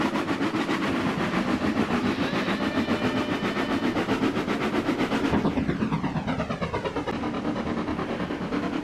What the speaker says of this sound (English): You stupid trains!